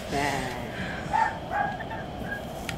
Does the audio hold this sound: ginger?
no